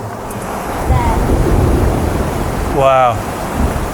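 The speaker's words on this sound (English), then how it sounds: "Definitely a storm a brewing." Steady wind and rough, surf-like outdoor noise roar through the whole stretch as a storm builds in bear country, with light rain sprinkling; a brief rising whistle-like tone cuts through near the end.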